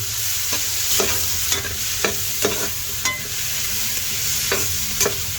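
Barbacoa meat and grilled peppers stirred in a pot, with a utensil scraping through the food in repeated strokes about every half second over a steady background sizzle, close and fairly loud, no voices.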